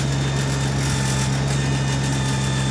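A New Holland tractor backhoe engine revving at 2,700 RPM, a loud, steady, close droning hum with a strong low tone and no pauses.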